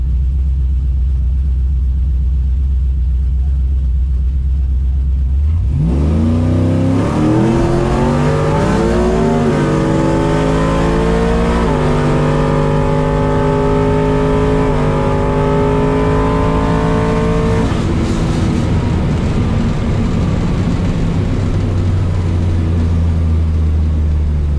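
A nitrous-fed Trailblazer SS drag races at a track and runs 9.76 seconds at 139 mph; the engine idles, then roars hard through several rising gear pulls before easing back to a rumble.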